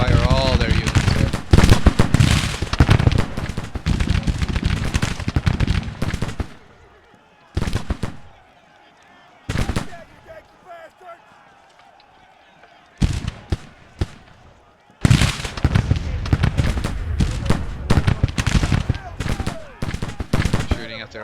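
Battle scene from the Civil War strategy game Grand Tactician: The Civil War, with long stretches of dense crackling musket volleys and artillery booms, broken by brief quiet gaps, with talk in between.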